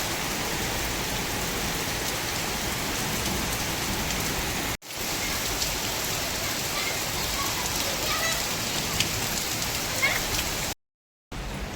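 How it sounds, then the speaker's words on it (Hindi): Heavy rain pours down steadily in a dense, loud hiss, with a brief break partway through and a short silent gap near the end. "आज बहुत ज़बरदस्त बारिश पड़ रही है"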